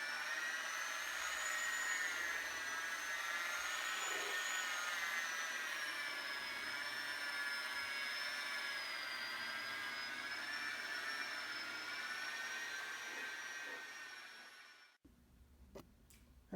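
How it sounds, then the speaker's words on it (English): A car polisher buffs fresh paint with Meguiar's Ultimate Polish in a home garage, its motor whining steadily with a slowly wavering pitch for about fifteen seconds before cutting off, followed by a few faint clicks. "I'm going to polish it out now before I put the wax on."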